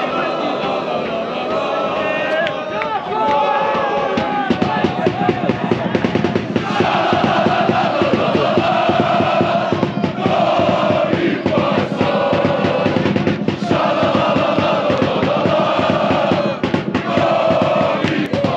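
Torcida Sandžak football supporters from Novi Pazar chant together in a large crowd, a loud, dense roar of rhythmic voices with repeated claps or drum hits throughout.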